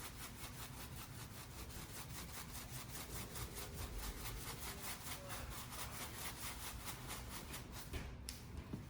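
Dry spice rub being worked by hand onto beef dino ribs, a faint steady scraping and rustling under a constant electrical hum.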